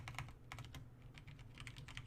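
Quiet typing on a computer keyboard while entering a command in a home security lab, with rapid, close, soft key clicks in short clusters and no talking.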